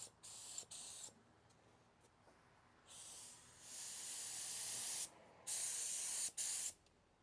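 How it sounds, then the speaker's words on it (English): Short bursts of spray paint hiss from an aerosol can during a test spray on a Pontiac GTO, several close, sharp sprays of varying length separated by silence, the longest near the end. "So we'll do a quick test spray."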